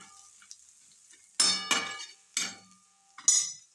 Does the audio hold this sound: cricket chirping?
no